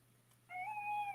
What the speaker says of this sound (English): And this is Bugera, the kitty cat.